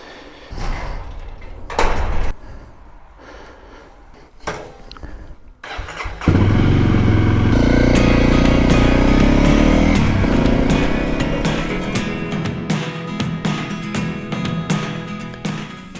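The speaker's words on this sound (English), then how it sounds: "as long as the weather is fine, I will do it by motorbike" A motorcycle is handled with a few clanks and knocks, then its engine starts and settles into a loud, close, steady running roar that carries on as the ride begins.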